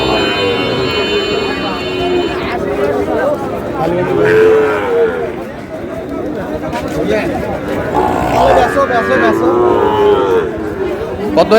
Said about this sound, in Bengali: শাহিওয়ালের ষাঁড় দেখছিলাম এখানে, সুন্দর